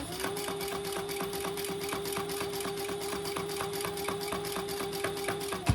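A sewing machine back stitches a rolled bag handle on a caddy, running in one steady, even whirr with a rapid stitching rhythm throughout, close up and alone.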